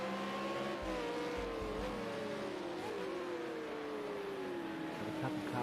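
V8 Supercars race cars lapping the Ruapuna GP circuit in a racing video game, a steady engine drone with shifting pitch as cars battle in the background, continuous and moderately loud with no talk.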